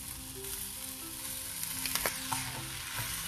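Boiled, mashed potato being stirred into a sizzling dosa masala curry with salt and chopped coriander in a hot pan, with steady frying crackle and soft scraping stirs throughout.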